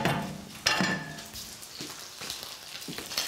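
Soft sizzling of chipolata sausages frying in a pan, with a few clinks and scrapes of a utensil stirring and turning them, fairly quiet and close.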